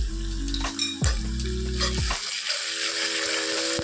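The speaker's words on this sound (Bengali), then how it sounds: "এবার এটাকে ভেজে নিচ্ছি ভালো করে। আদা বাটা দিয়ে দিলাম" Ginger paste fries in a pan with a cabbage and gram-flour dish, a soft sizzle under loud humming tones and scraping stir strokes, with no talking.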